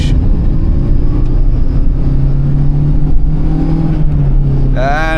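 A 2005 Maruti Suzuki Baleno with a 1.6 engine pulls hard in second gear, its engine droning loud and steady from inside the cabin, with a short burst of speech at the very end.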